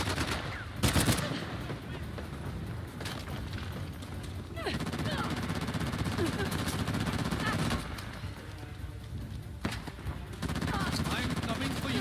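Repeated gunshots and short automatic bursts in Uncharted: The Lost Legacy, fairly close, spread across a steady game soundscape with a player talking over the firing.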